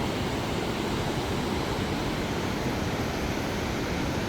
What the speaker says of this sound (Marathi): खळखळ खळखळ कसा आवाज आहे बघा, कारण की स्पीडच तेवढा आहे पाण्याला.